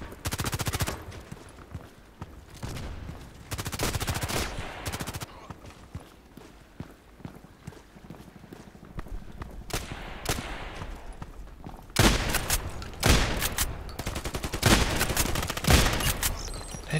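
Loud MP133 pump shotgun blasts in the online shooter Contract Wars come in sharp bursts separated by quieter stretches of background game noise and footsteps, with a heavy cluster of shots near the end.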